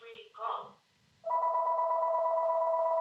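A telephone dial tone hums steadily and loudly on a meeting call, starting partway through and holding to the end, after a brief stretch of talking.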